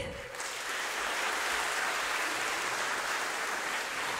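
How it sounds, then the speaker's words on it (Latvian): Audience applause at a school music concert, steady dense clapping from a crowd that fills the whole stretch at an even, loud level. "Aplausi!"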